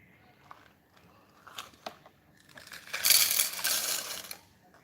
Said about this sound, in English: I'm going to drop that box of 4mm washers in the 4mm washers box.